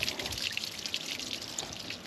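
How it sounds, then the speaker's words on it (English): Water flows and trickles steadily from a Grundfos 11SQF-2 solar-powered submersible pump system, a continuous splashing, dripping stream heard close and alone. "We're pumping water again."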